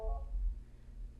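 A mobile phone gives a brief burst of electronic tones at the start, then a low steady hum remains indoors.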